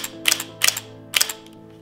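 Three close, sharp bursts from a Canon EOS D30 digital SLR shutter firing in 3 fps continuous mode, each a quick double clack of mirror and shutter, evenly spaced.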